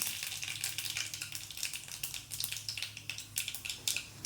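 Spices and fenugreek seeds frying in hot oil for a Tamil home recipe, a close, steady crackling sizzle with rapid little pops and occasional stirring scrapes, no voices.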